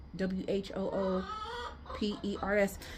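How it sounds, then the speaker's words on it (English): A skittish backyard chicken clucks in agitated, repeated bursts, making a ruckus in a garden; the calls come close and fairly loud, with a louder squawking run near the end. "I have one chicken that's so skittish."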